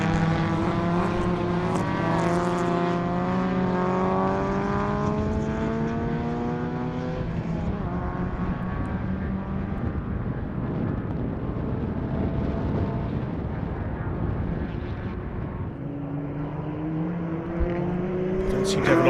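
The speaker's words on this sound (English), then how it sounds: "before we see Keegan Nathan, the leading Class C car." Race cars, including a Ford and Volkswagen Golfs, roar past on a circuit at the 2025 Regional Extreme Festival, loud engine notes rising and falling as they pass, with commentary over the top.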